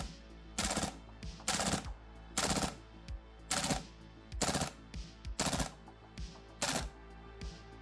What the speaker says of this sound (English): it struggles to make it through even a single mag before failing to feed